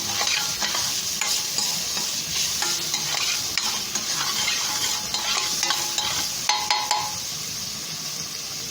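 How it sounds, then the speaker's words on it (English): Chopped garlic and onion frying in a pan for a beef casserole, a steady dense sizzle with frequent close spoon scrapes and clinks throughout; no talking. "Then you add your chopped garlic and onion. Stir it, let it cook to tender."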